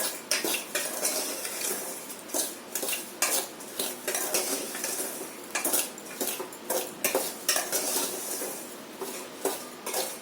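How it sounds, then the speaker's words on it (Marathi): Peanuts being stirred and roasted in salt in a pan, with repeated scraping clatters of a metal spoon against the pan and the rattle of nuts and salt grains in an uneven rhythm, close up. "याला छान फिरवून घ्यायचे मिठामध्ये शेंगदाणे"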